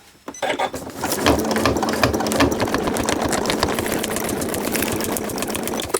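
A sewing machine stitches the fabric of an insulated bum bag, starting after a brief moment and then running as a fast, steady mechanical whir with rapid needle ticks, loud and close, with no talking.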